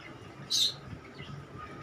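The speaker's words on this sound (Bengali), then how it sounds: "রেড আই পেস লাভবার্ড দেখুন কত সুন্দর" In a small bird colony, a red-eyed lovebird gives one short, sharp high chirp against a faint, quiet background, with no speech.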